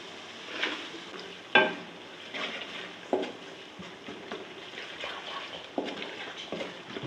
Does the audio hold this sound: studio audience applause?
no